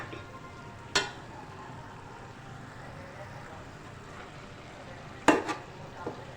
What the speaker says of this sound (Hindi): अब हम इसकी बहुत अच्छी तरह तकरीबन 10-15 मिनट इसकी भुनाई करेंगे